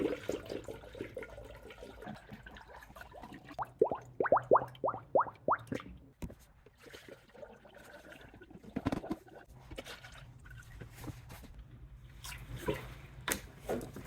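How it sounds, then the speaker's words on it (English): Engine coolant is poured through a no-spill funnel into the radiator of a Honda with a J35A7 engine, giving close, quiet glugging plops and gurgles that come in a quick run, then scattered trickles. "let's start pouring the coolant into the radiator"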